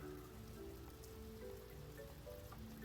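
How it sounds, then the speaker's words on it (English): Steady rain falls in the video game Stonehearth, a continuous even patter of drops with no voices, loud and close throughout. "It is raining."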